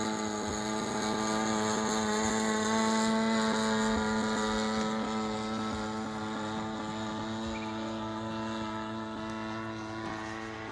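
A Great Planes Giant Avistar RC plane's 30cc gas engine running at full throttle, a loud, steady, buzzing drone with slight gurgle and wavering pitch, close by and continuous throughout.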